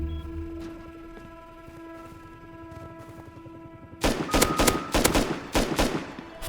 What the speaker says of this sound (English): They're shooting out the turrets, man.